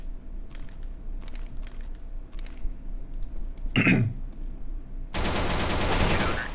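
Gunfire in the video game CS:GO, a short burst of shots near the middle followed by a long, loud, dense volley of rapid fire at the end over low game ambience.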